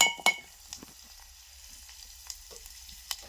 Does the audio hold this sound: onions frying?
yes